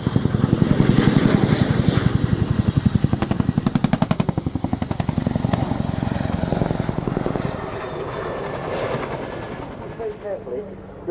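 A Chinook Mark 6 helicopter's tandem rotors beat out a loud, fast rhythmic thud that fills the opening seconds, then eases into a steadier whine and rumble as it moves off and fades.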